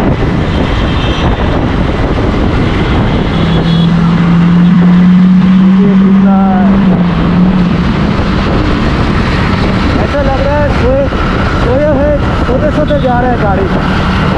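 A Lamborghini driven fast alongside a motorbike on a road gives a loud, continuous engine and wind roar close to the microphone, with voices talking over it.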